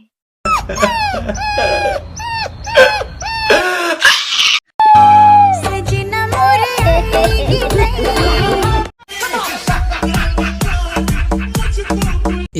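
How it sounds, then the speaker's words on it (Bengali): A dog that has just had three puppies yelps and whimpers in high, wavering cries, loud and close, in a long run of repeated calls with brief pauses. "কুত্তায় তিনটা বাচ্চা দিচ্ছে"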